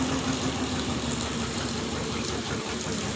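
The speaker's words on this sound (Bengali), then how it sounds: "এই ট্রলারটি যাওয়ার সময় কিন্তু আটকে গেছে।" A trawler boat stuck under a bridge, its engine running as a steady, loud, continuous drone with rushing water noise throughout.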